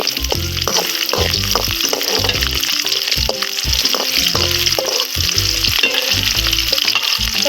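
Peeled small onions (shallots) frying in oil with dried red chillies in a pan, a loud close sizzle broken by repeated stirring and scraping strokes, no speech.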